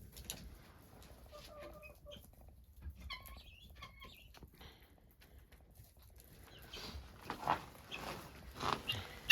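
Hens in a freezing chicken coop give soft, scattered clucks and short calls. The coop is quiet at first, then grows busier and louder with rustling and shuffling movement.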